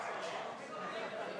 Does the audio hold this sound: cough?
no